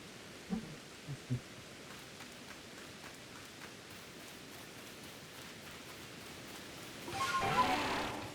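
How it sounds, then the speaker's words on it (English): Steady rainfall in Pokémon Legends: Arceus, a soft even hiss running throughout, with a few brief soft thumps near the start and a louder rustling swell toward the end. "Already raining again?"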